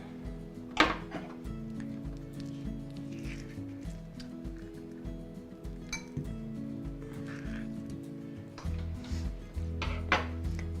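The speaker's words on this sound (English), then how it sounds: "slice 1 avocado and scoop it into your bowl" Avocado being sliced and scooped into a bowl, with soft knife taps, scrapes and clinks of utensils against a dish, quiet and close, over a faint background.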